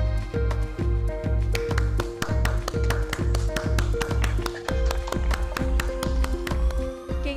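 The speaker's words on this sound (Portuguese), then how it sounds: "Convidar vocês para abrirem seus microfones para a gente fazer um ato de palmas, de comemoração" Many participants clap together over open microphones during an online graduation ceremony, sharp irregular claps piling up into a steady, fairly loud round of applause that runs throughout.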